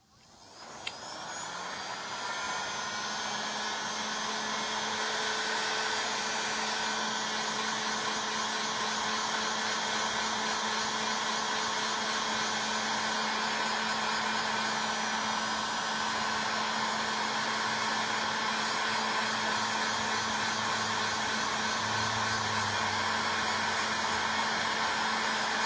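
A hot-air tool blows heat onto an iPad Air screen to loosen it for removal, giving a loud, steady, unbroken rush of air that holds for the whole stretch, close by and with no voices.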